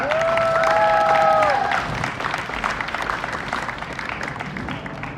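An audience breaks into loud applause with some whistles and cheers, strongest in the first two seconds, then fading to scattered, lighter clapping.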